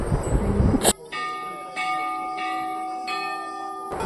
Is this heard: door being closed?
no